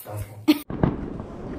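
Outdoor New Year 2021 fireworks give two short sharp pops in quick succession, followed by a low rumbling tail under faint background noise.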